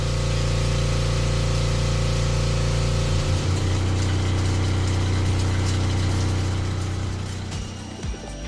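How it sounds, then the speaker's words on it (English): A Haas box way slant-bed lathe mills slots into a steel workpiece with live tooling, giving a steady loud mechanical drone with strong low tonal hum that shifts slightly midway and eases near the end, no voices. "we're going to mill some slots into this piece of steel"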